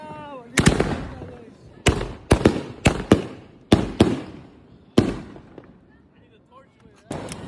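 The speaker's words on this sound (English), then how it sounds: "which is like 6 fireworks." Fireworks burst outdoors at a Fourth of July gathering by the water, about eight sharp loud bangs in an irregular series, each with a brief rumbling tail, with distant voices between them.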